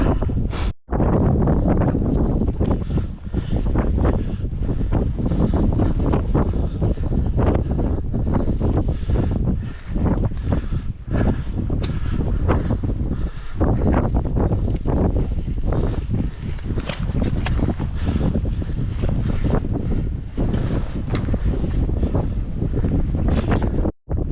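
Wind gusting across a winter hilltop summit on Loughrigg in the Lake District, a loud, continuous roar that buffets the microphone with rumbling surges throughout and no voices.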